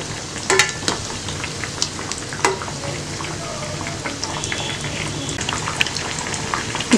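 Black chana vada (kondakadalai vadai) deep-frying in hot oil, a steady crackling sizzle with scattered sharp pops and spatters throughout, close and fairly loud with no talking.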